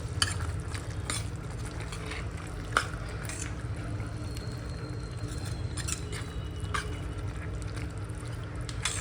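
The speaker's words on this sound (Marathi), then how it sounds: "आता ते आपण चांगलं हलवून घेऊया." Green mutton is stirred in a pan with a spoon, giving soft wet squishes and occasional scrapes over a low steady cooking hum, fairly quiet and close.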